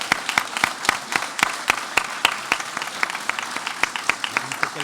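Applause at the installation session of a municipal council, following a sash handed to a newly elected official: a small group clapping in steady, distinct sharp claps for about five seconds, moderately close, with no talk over it.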